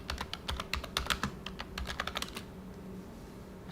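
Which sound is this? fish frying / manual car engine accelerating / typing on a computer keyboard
typing on a computer keyboard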